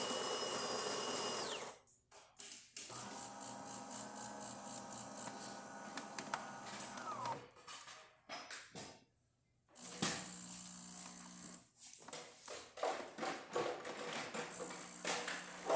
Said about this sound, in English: So there's the grinder going.